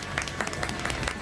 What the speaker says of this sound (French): On l'applaudit, c'est Monsieur Karaté qui est avec nous